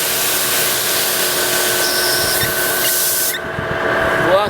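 A water nozzle sprays at full flow of about 40 gallons a minute, a loud steady hiss that drops abruptly near the end.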